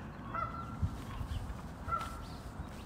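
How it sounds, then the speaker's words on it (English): Geese honking on a calm lake at Green Lake in Seattle, Washington, with two distinct honking calls about a second and a half apart, moderately near above a steady low background rumble. "you can definitely hear those geese"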